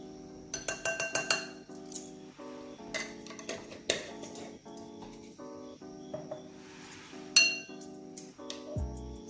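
A metal spoon clinks repeatedly against glass and dishes while paprika is measured out for a homemade Caribbean all-purpose meat seasoning, with quick bright taps in clusters and scattered single knocks, close and fairly quiet, no talking.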